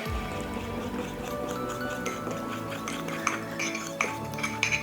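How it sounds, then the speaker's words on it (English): A fork clinks and taps against a mug while stirring cake batter, in light, irregular metallic ticks that grow sharper near the end. "now let's take our fork and mix that all up together, the dry ingredients and the wet ingredients"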